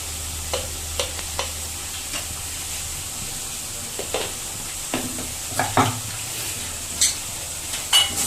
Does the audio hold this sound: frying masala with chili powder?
yes